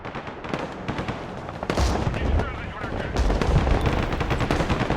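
Sniper fire and heavy gunfire in the video game Broken Arrow, alongside Russian armour including a T-80, come as rapid, loud bursts that intensify partway through, with booming low-end impacts under a speaking voice.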